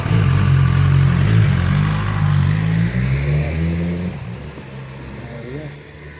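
A car pulls up nearby with a loud, steady low engine rumble that gradually eases off and quiets toward the end, with faint clatter over it.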